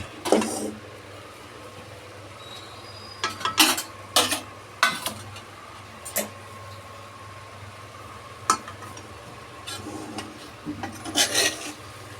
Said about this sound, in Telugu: దీన్ని ఒకసారి మంచిగా కిందికి పైకి కలుపుకోండి.